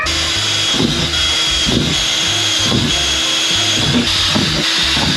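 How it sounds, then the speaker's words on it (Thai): A power drill boring small guide holes into the metal body of a van being converted into a camper, a loud continuous whine that rises and falls in regular pulses, close up with no talking. "ผมจะเริ่มเอาสว่านอันเนี้ยมาเจาะเป็นไกด์ไลน์เล็กๆ ตรงนี้ไว้"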